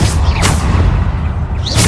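Depulso spell impacts from the video game Hogwarts Legacy: loud, dense booming thuds with sharp bursts at the start, middle and end, layered over continuous rumbling combat noise.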